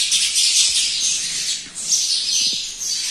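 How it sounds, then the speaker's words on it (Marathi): A dense, steady chatter of many sparrows fills the ancient Surya Narayan temple near Pandharpur, Solapur district, loud and close and continuous throughout, with no talking. "लाखो रुपये जरी दिले तरी हा चिमण्यांचा चिवची वाटत जे एक नैसर्गिक बॅकग्राऊंड म्युझिक आहे"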